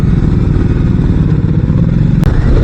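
Motorcycle engine holding a steady drone while riding along an empty winding ghat-section hill road, loud and close throughout with a brief wind or handling bump near the end.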